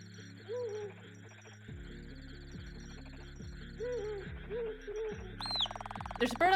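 Short bird calls and coos from a bird perched on a chest in the RPG Final Profit: A Shop RPG, repeating several times over a layered game music track, with brighter chirps near the end.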